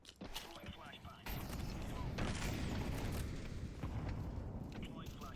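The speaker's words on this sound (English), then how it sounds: "Throwing flashbang." In-game Counter-Strike 2 grenade throw during a Premier match, with dense overlapping gunfire and booming explosions running loud throughout after a brief quieter opening, under voiced radio callouts.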